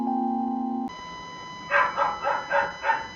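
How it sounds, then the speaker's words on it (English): A neighbor's dog barks in the background, a series of four or five quick, moderately loud yaps in a steady rhythm, coming after a steady electronic tone cuts off. "I'm so sorry for the barks of the dog that is up in the background"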